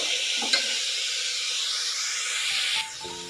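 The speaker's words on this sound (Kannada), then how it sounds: "ಅಲ್ಲಿನವರೆಗೂ ಈರುಳ್ಳಿಯನ್ನು ಫ್ರೈ ಮಾಡೋಣ." Onions fry in ghee for ghee rice, a steady bright sizzle that drops off abruptly near the end as a quieter tone takes over.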